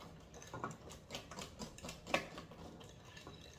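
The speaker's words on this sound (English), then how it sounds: "You use your whisk, work out the muscles." Greek yogurt pancake batter whisked by hand in a bowl, a quiet run of irregular clicks and scrapes with one sharper knock near the end, no talking.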